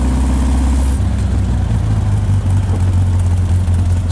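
Engine of a 1951 Morgan Plus 4 on a test drive, heard close and loud as a low, steady drone that shifts pitch partway through as it pulls smoothly.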